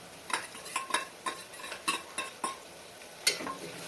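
A spoon or spatula stirring chopped chilies, ginger, onion and tomato in hot oil in a pan, with a series of sharp scraping clinks in an uneven rhythm over a faint sizzle.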